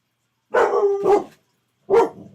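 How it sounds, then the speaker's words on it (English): A dog barks indoors in three sharp, loud, close barks, two in quick succession and one after a short pause, with no talking over them. "What are you barking at?"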